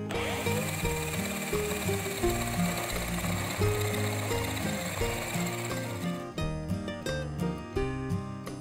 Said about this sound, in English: Using a 1 1/2 inch boring bit, drill a 1/2 inch deep hole into the top of each piece of wood.